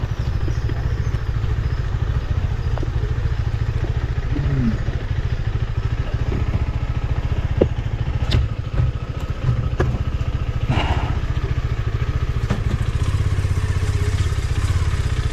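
A motorcycle engine runs steadily at close range on a road in Kerala, a continuous low idling rumble that stays level throughout.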